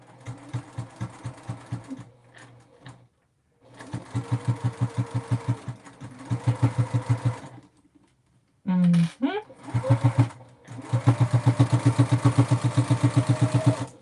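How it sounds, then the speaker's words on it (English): A sewing machine runs in several bursts of rapid, steady stitching through thick layers of material, pausing between runs, with a brief squeak or clip handling in the middle; loud and close, no talking over it. "it is stitching through a lot of material, so everybody knows"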